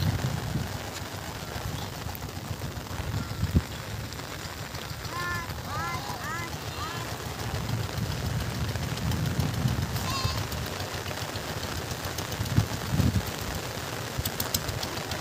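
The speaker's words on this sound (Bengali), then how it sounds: "ওই দূরে আর দেখা যাচ্ছে না স্পষ্ট, এতটা মুষলধারায় বৃষ্টি চলছে।" Heavy monsoon downpour over a river near Sundarbans island, a steady dense roar of rain filling the whole clip, with occasional faint bird calls and distant sounds mixed in.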